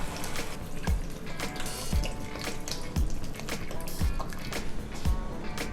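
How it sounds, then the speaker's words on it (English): Water runs and splashes steadily into a soup pot holding organic vegetable stock cubes, with a continuous close pour and faint rhythmic knocks about once a second underneath. "cover the whole thing with some water, about 750 milliliters"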